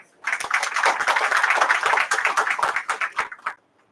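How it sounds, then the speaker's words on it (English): A convocation ceremony audience at a forest academy gives a dense, sustained round of applause for housekeeping and other staff, lasting several seconds before fading out. "I request everyone to give a big round of applause for the housekeeping staff and the other staff"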